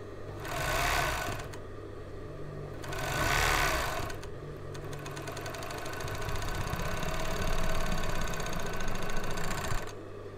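A 4-thread overlock machine runs on fabric with a close, rapid mechanical chatter, starting with two short bursts and then a longer steady stretch of stitching that stops abruptly near the end.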